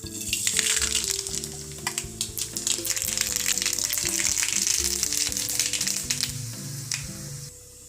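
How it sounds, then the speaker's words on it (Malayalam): Rapid crackling and popping of mustard seeds spluttering in hot oil over a loud, steady sizzle, close by. "എണ്ണ ചൂടായി വന്നിട്ടുണ്ട്. ഇതിലേക്ക് കുറച്ച് കടുക് ഇട്ട് കൊടുക്കാം."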